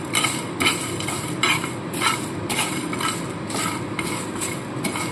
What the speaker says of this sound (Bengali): সমস্ত মশলাগুলো আমি হালকা নাড়াচাড়া করে নিয়ে একটু ভেজে নিয়ে